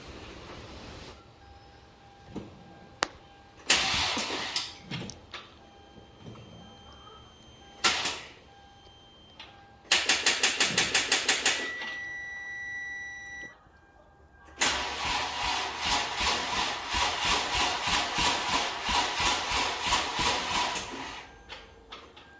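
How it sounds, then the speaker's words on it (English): A Hyundai Genesis 3.8L engine, freshly swapped in and fed by a new battery, cranks in short close bursts, then gives a longer rhythmic cranking run before a sustained, loud pulsing run near the end. "All right, we're gonna start the engine."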